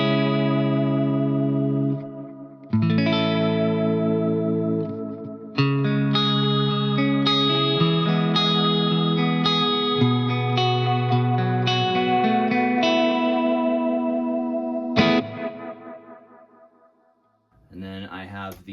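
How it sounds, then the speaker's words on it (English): Electric guitar played through volume swells and heavily modulated delay, with chords blooming in softly and smearing into a wavering, shimmering wash that sustains for long stretches, then fades out before a final faint swell. "It's basically using the volume swell and then some pretty heavy modulation to create a very unique delay."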